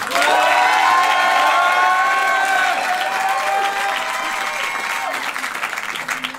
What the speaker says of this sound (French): Gardez vos applaudissements pour voter directement pour les jaunes